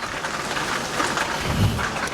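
Rain falling outside an open window by an indoor reading nook, a dense, even hiss of drops on surfaces, moderately loud and continuous with no talk.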